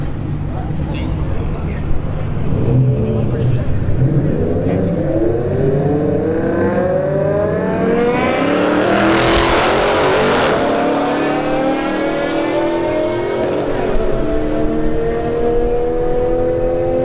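Dodge Charger Scat Pack at a drag strip launches and roars past, a loud engine howl rising through gear changes and peaking close by before fading, with announcer talk over the track.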